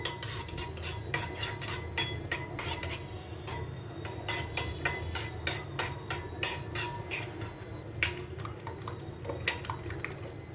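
Chopped onion, green chili, coriander leaves and salt being stirred together in a bowl with a spoon, a rapid run of light clinks and scrapes in uneven bursts, close and fairly quiet, with no one talking.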